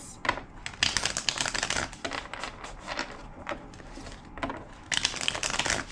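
Rapid riffling and slapping of tarot cards being shuffled, in several quick bursts with brief pauses between, close and fairly loud.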